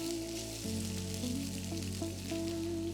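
Mustard and cumin seeds splutter and sizzle in hot oil at a low, steady hiss, with soft musical tones running underneath the crackle throughout.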